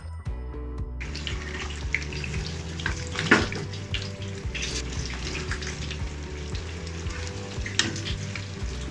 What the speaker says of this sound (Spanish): siempre me encanta el sonidito que hace el momento de estarse friendo los tacos